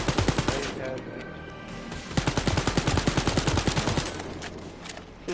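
Auto turrets fire in the video game Wolfenstein: Youngblood, loosing rapid, close bursts of automatic gunfire in quick stuttering volleys with brief gaps between them.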